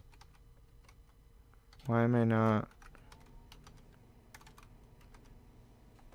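Computer keyboard typing during a livestream, soft clicking keystrokes scattered throughout, with a brief spoken phrase cutting in near the middle.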